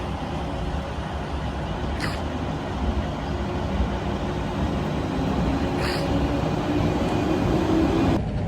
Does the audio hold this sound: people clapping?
no